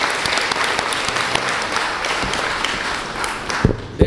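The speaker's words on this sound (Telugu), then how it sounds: "చప్పట్లు చప్పగా కొట్టకూడదు" Sustained applause from a church congregation, dense clapping filling the room for several seconds with a few louder claps near the end, no voices standing out.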